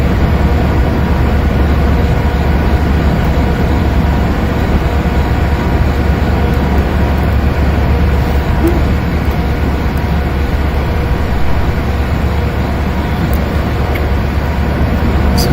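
Union Pacific Challenger 3985 steam locomotive in the Open Rails train simulator, climbing the Tehachapi pass: a continuous loud, deep rumble and mechanical drone with steady rolling noise, unchanging throughout.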